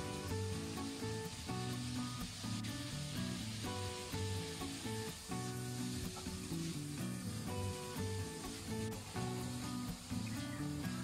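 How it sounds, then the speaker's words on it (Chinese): Arctic shrimp and green peppers stir-fry in a pan with a steady, faint sizzle and hiss, mixed with occasional scraping under a constant background tone, with no talking. "再翻炒大约1分钟左右，炒至青椒已经变得油绿"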